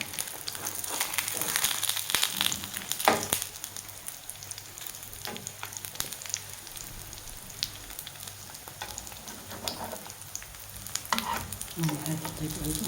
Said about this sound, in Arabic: هنا راني نقلي فيهم